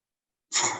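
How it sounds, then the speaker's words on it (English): A single sharp sneeze bursts out close to the microphone after a moment of silence, short and breathy with no talk around it. "Wow, I had to sneeze."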